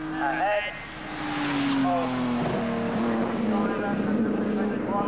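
Triumph TR race cars lapping a circuit in a 1995 TR Register championship race; an engine note sweeps past, rising then falling in pitch as a car goes by, while a commentator talks over it.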